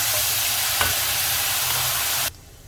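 Chopped onion fries in hot oil in a pan for a pakora curry gravy, a steady close sizzle with occasional stirring scrapes, cutting off abruptly near the end.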